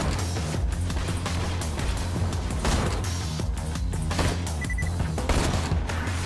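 Rapid gunfire from Borderlands 2, dense bursts of automatic shots crackling loudly and continuously with crashes and impacts mixed in, game combat sounds filling the whole stretch.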